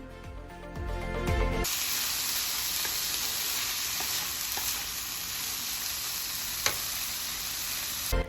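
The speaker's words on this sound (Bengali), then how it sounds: "এখন ঢাকনা খুলে আমি আর একটু নেড়ে দিচ্ছি" Vegetables for a shrimp and vegetable couscous sizzle steadily in a hot pan, with occasional scraping stir strokes over a continuous frying hiss that starts abruptly and stays loud and close.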